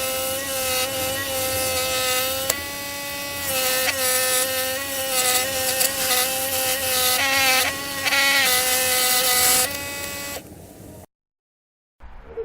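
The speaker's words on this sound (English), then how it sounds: "now I'm gonna take it over to my scroll saw and cut it out." A scroll saw cuts out a black walnut mug handle, a steady buzzing whine with strong tonal harmonics, close and loud, shifting pitch slightly as the cut progresses, then stopping abruptly into silence.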